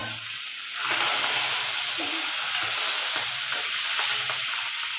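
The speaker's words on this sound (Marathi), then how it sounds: "त्यामध्ये ह्या दोन मिरच्या टाकून घेते तर आता थोडंसं हिंग पण टाकले" Green chilies and asafoetida fry in hot oil, giving a loud, close, steady sizzle with a bright hiss and faint stirring beneath it.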